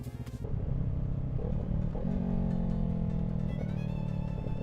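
A motorcycle with an aftermarket exhaust runs close by, its revs rising and settling in steady, droning tones as the throttle is blipped for a rev-matched downshift.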